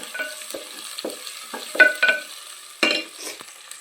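A spoon stirs chicken sukka curry with coriander, mint and green chilies frying in a pan, with repeated scraping strokes over a soft steady sizzle, close and without talk.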